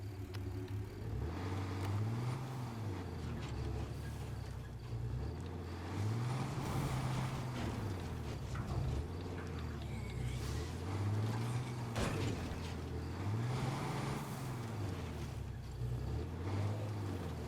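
Car engine in State of Decay 2 droning steadily at mid volume, with a low tone that rises and falls in repeated swells as the vehicle drives on through the whole stretch.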